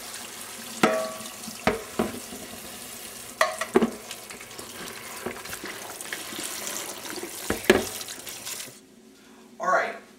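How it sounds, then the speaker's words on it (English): Onions cooking in a little olive oil in a pan, with soft frying and stirring sounds mixed with scattered clatter and louder knocks from the kitchen, close by and moderately loud. "Mike has his onions cooking in a little olive oil for a couple minutes"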